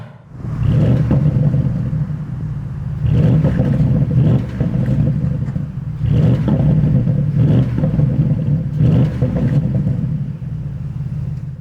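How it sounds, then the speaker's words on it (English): A 2021 Porsche Panamera Turbo S V8 in Sport Plus mode revs hard in repeated bursts, roaring up then dropping back, loud and close, about four surges with brief dips between. "I really just wanted to show you what the V8 sounds like on Sport Plus"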